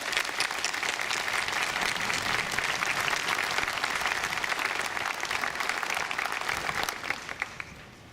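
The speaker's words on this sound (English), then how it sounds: "And I think that deserves a round of applause." Sustained applause from an audience at a college presidential inauguration, dense and loud for about seven seconds before starting to thin out at the end.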